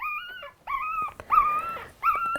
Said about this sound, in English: I'm just trying to find which puppy it is that's making the fussy here.